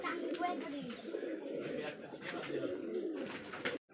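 Racing pigeons (Rajshahi Giribaz) coo in a low, steady murmur throughout, with people talking faintly over the flock.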